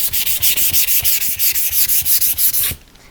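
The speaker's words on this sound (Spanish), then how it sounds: "Con la lija de 500 le doy suave," Rhythmic strokes of fine 500-grit sandpaper rubbing a surface, about fifteen quick even passes, close and steady, then stopping abruptly.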